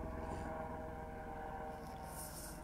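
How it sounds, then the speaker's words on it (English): A steady low mechanical drone with rhythmic rotor throbbing from a helicopter flying overhead, fairly distant, continuous throughout with no voices. "We got a helicopter."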